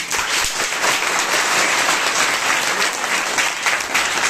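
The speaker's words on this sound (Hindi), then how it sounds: "ताली बजाइए सर" A hall audience breaks into dense, sustained applause, many hands clapping loudly and evenly for the full stretch with no pauses.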